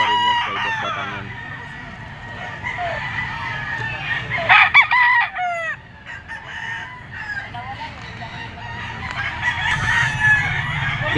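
A Kelso bull stag gamefowl rooster crows at a grotto gathering of mature fowl, with several other roosters crowing and clucking around it, one loud close crow standing out midway over a busy background.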